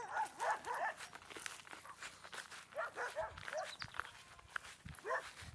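Several dogs bark repeatedly at a moderate distance near a chicken coop, overlapping yips and woofs in irregular bursts, with faint footsteps and background movement.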